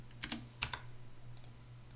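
A handful of crisp computer keyboard keystrokes while copying code, a quick cluster of taps followed by a couple more, quiet and close against a faint steady hum.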